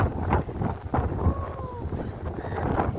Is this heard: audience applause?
no